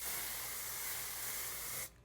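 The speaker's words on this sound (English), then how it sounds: "I'm so gonna abuse this pore spray." A continuous fine mist of pore spray sprayed onto a face, hissing steadily for almost two seconds before cutting off abruptly, close and alone.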